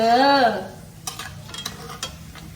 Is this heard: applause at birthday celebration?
no